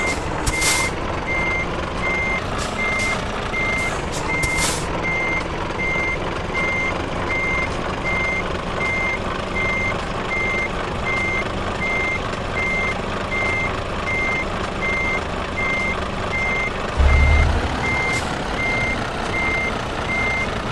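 A truck in Euro Truck Simulator 2 reverses to park, its steady reversing beeper pulsing evenly over a continuous engine drone, with a brief air-brake hiss near the end.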